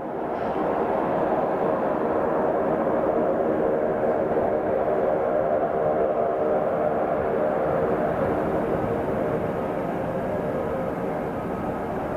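Large jet aircraft at Ted Stevens Anchorage International Airport, a steady broadband engine roar that holds loud and constant throughout, with no talk over it.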